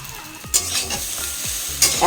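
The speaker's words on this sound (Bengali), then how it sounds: "এখানে চাউমিনটাও গরম করছি" Ready-fried chow mein reheating in a pan gives a loud continuous sizzle, broken by a couple of sharp spatula scrapes and stirring clatters, with no talking.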